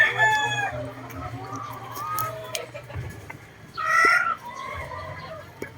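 A Bone Crusher hatch gamefowl rooster crows outdoors at moderate distance, a strained call near the start and another a few seconds later, over a low background hum and faint clucking.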